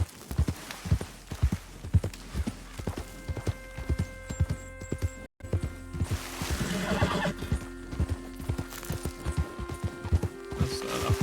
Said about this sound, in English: That's a horse.